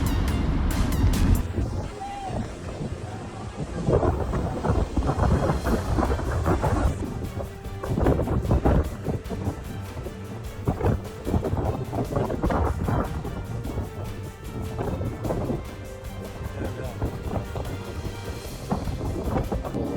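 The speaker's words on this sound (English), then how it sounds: "Incredible lightning strikes during a storm in Dubai on October 26," Thunder rolls and cracks during a lightning storm over Dubai, with repeated heavy booms, rain and gusting wind buffeting the microphone, loud and continuous for the whole stretch.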